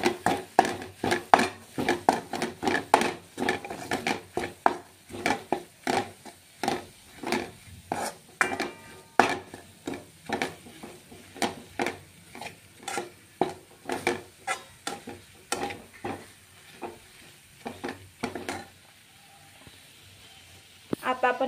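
Soybean dish ingredients are stirred in a pan with rhythmic scraping and tapping strokes of a utensil, repeated steadily with a soft sizzle beneath.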